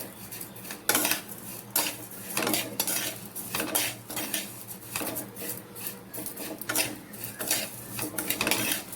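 A utensil scrapes and clinks rhythmically against a pan while roasting vermicelli, a steady stirring with metallic taps and scratchy rasps throughout.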